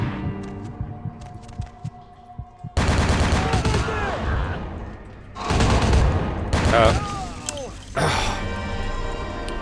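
Gunfire in the video game Vampire: Bloodlines, loud repeated volleys of shots in sustained bursts with short gaps, dense and close, without talk over it.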